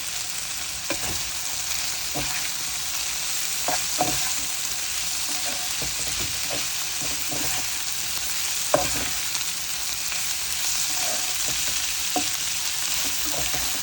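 Washed, cut eggplant frying in a pan, giving a loud, continuous sizzle that stays close and even throughout, broken by occasional soft clicks of stirring and no voices.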